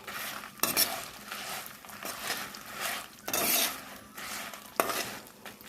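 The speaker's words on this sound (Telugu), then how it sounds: "వీటన్నిటిని కూడా చక్కగా సిమ్లో పెట్టేసుకొని మంచిగా వేయించుకుందాం." Coriander seeds, dried chillies and fenugreek roasting in a pan on low heat while a spoon stirs them, giving repeated scraping strokes and metallic clinks over a light dry sizzle, close and fairly loud with no talking.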